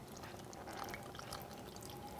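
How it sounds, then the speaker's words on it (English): Liquid blueberry muffin ingredients are poured into a bowl of flour mixture, a faint, steady trickling and splashing pour at low level, close by, with no talking. "And we're going to pour the liquid right in there."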